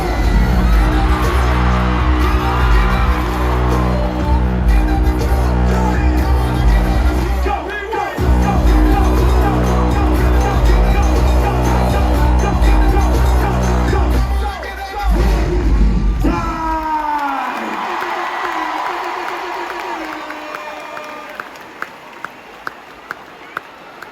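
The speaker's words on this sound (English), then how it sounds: "Cheer her on." An arena crowd at Rod Laver Arena cheers and roars during a concert, sustained loud crowd noise layered over pounding music, fading toward the end with a few sharp bangs.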